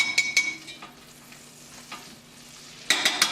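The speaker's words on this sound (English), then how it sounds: "I don't have a whisk, so I'm using an egg beater." An egg beater stirs and scrapes in a saute pan with melting butter, giving soft sizzling and a few sharp clicking bursts at the start and end, quiet and close with no talk.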